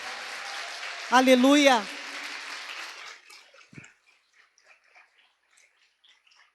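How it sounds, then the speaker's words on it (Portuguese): A church congregation at a women's congress claps in diffuse, fairly faint applause. A voice shouts briefly over it, and the clapping fades away after about three seconds, leaving near silence. "Dá uma salva de palmas para o Senhor"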